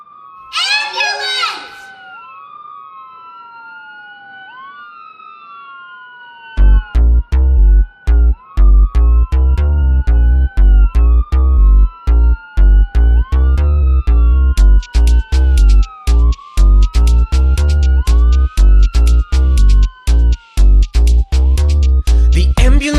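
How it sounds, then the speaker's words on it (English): After a brief wailing tone, a loud ambulance siren cycles up and down repeatedly over a pulsing musical beat, close and continuous to the end. "Her sirens blare, her lights go flash, and this is what they mean."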